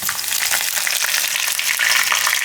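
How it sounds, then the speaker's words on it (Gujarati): Curry leaves and garlic sizzling in hot oil, a loud, dense crackling fry heard up close and steady throughout, with no voices. "હવે એમાં આપણે નાખીશું લીમડો"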